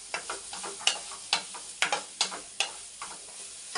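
Onions frying in a pan for mushroom tikka masala, a soft steady sizzle broken by sharp regular clicks and scrapes of a spoon stirring, close up with no talking.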